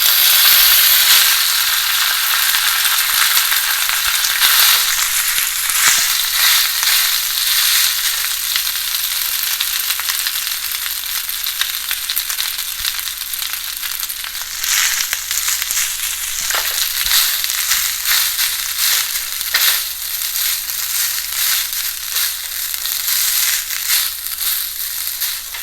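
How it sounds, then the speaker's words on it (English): Cooked rice being stirred into fried urad dal in a hot pan for Chettinad temple-style black pepper rice, a loud, continuous crackling sizzle with scraping and crunching throughout, no voices. "And right now I'm going to add the cooked rice."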